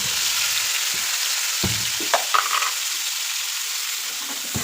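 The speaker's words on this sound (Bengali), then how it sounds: "তেল একটু ঢেলে নিলাম আর বাদ বাকিটা যেটুকু থাকে তো কড়াতে এখন দিয়ে দিচ্ছি দিয়ে দিয়ে সোয়াবিনগুলো ভাজা করব" Steady sizzle of soybean chunks frying in oil in a wok, with occasional stirring scrapes and clinks over the constant crackle.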